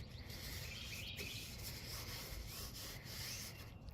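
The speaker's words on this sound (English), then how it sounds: "Take my hand and rub it in" A bare hand rubs liquid rust treatment into the metal of a classic car or truck, making a steady, close, continuous scrubbing swish with no talk.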